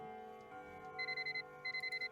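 An alarm clock in a Nancy Drew video game beeps in two quick runs of four short electronic beeps, steady and moderately loud, over a low background hum.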